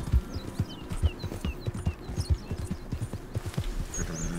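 A horse in the video game Red Dead Redemption 2 moves at a quick pace, its hooves producing steady, rhythmic clip-clop beats close by, with bird chirps in the outdoor ambience and no speech.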